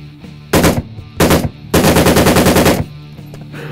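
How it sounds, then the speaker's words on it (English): Automatic fire from a shorter, modified Chinese paratrooper AK-47 rifle, heard as two short loud bursts followed by a longer sustained burst of rapid rhythmic shots, close and dominant. "This is actually the shorter, modified Chinese paratrooper AK-47."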